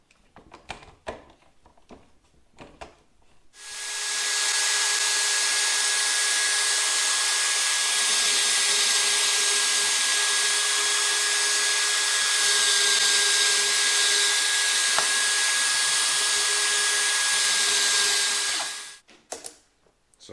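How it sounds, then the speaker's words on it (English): A cordless drill mounted in a drill press stand whirs steadily at high speed for about fifteen seconds, a constant bright motor whine that starts and stops abruptly, with faint handling noise around it. "Cordless drill press."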